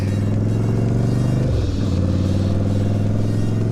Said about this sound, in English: Oh, and now it's just gonna be traffic, and more traffic.